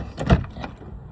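Door locks on a 2024 Jeep Gladiator Sport actuating, a quick mechanical thunk followed by a softer second clunk, close and fairly loud, with no talk.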